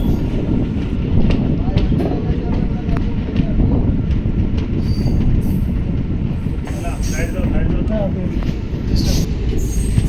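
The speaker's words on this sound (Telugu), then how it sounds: "ఫ్రంట్ వచ్చేసి train Gadwal railway station gate enter అవుతుంది" A train rumbles and rattles along the tracks as it pulls into Gadwal railway station, with brief wheel squeals and voices at times.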